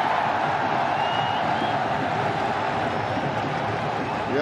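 Cricket stadium crowd roaring steadily after a four in a Chattogram Challengers vs Fortune Barishal match, a dense continuous wall of cheering with no break.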